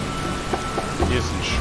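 Heavy rain pours steadily in The Witcher, a dense hiss of downpour in the medieval city of Wyzima, with a few brief thumps and a rising low rumble toward the end.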